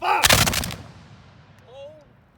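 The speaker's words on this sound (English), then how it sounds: "At extreme elevation! Extreme elevation. Ready! And fire!" Civil War reenactors fire a musket volley, a dense crackling burst of near-simultaneous shots fading into a rolling echo, followed by a faint shouted voice.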